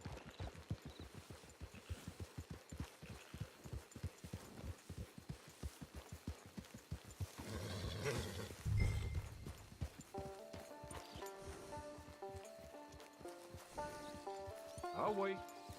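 Steady clip-clop of horse hooves at a walking pace in Red Dead Redemption 2, rhythmic and close, followed by a brief rumble and then game music with faint talk over it.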